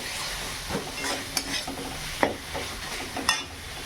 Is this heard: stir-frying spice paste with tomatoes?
yes